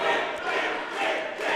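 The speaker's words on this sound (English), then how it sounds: "The crowd chanting for their Dark King." A wrestling crowd in an arena chants for the Dark King, a dense, continuous roar of many voices filling the hall at steady loudness.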